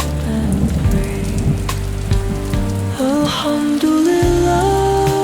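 Steady rain patters continuously beneath a sung devotional vocal and melodic accompaniment, with the downpour holding an even wash throughout.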